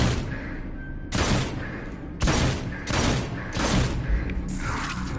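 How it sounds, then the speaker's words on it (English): Several loud, booming shotgun blasts from the VR shooter Farpoint, roughly four big broadband bursts at uneven intervals, each with a long tail, no voices over them. "This is how you fire shotguns properly."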